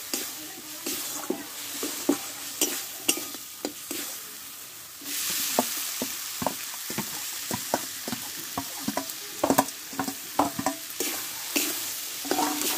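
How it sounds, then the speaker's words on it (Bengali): Mustard seeds land in hot oil with a sudden rise in sizzling hiss, and repeated scraping stirs tap against the pan, in a cucumber recipe. "দেখো এবার সরষেটা আমি এতে দিয়ে দেবো।"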